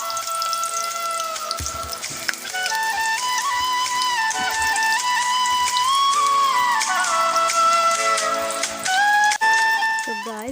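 Cabbage fritters in gram flour batter fry in a pan with a steady close sizzle and scattered crackles. Background music plays throughout, and a brief bubbling rises near the end.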